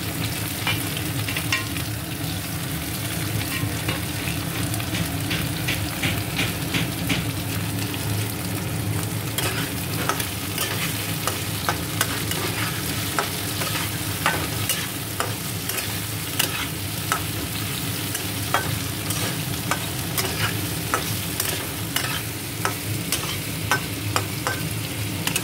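Ginger paste and chopped tomato sizzle and fry with potatoes in a pan while a utensil stirs and scrapes throughout, a steady close-up crackle with frequent clinks over about twenty-five seconds.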